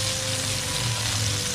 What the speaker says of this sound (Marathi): सगळ्यात पहिले एका नॉनस्टिक पॅनमध्ये आपल्याला बटर गरम करून घ्यायचं आहे